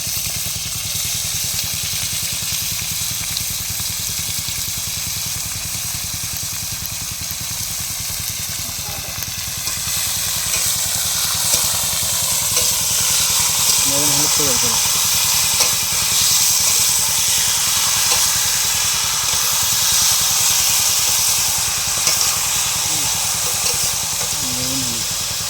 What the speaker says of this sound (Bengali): মাংস দিয়ে দিচ্ছে কড়াইতে।